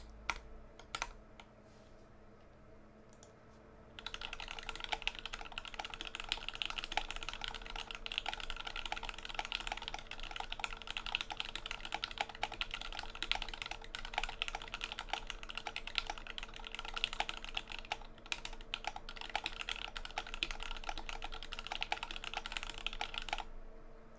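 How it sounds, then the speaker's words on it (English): Fast, steady typing on an Input Club Whitefox mechanical keyboard fitted with Switch Couture SOHO switches. A dense, continuous clatter of close keystrokes starts after a few quiet seconds and runs unbroken to the end, with no talking. "let's do another typing test"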